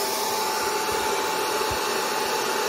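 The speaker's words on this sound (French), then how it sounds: "J'allume le sèche-cheveux." A hair dryer runs continuously at close range to heat medical masks for disinfection, a steady loud whirring hiss with a faint tonal hum and no speech.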